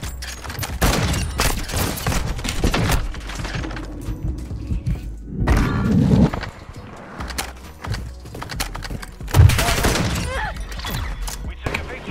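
Rapid bursts of gunfire in a video game, sharp repeated shots in clusters mixed with hoofbeats and other game effects, loud and close, with players talking over them.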